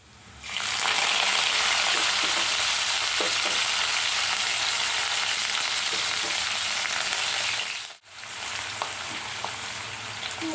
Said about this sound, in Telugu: ఉల్లిపాయ బాగా వేగిపోయింది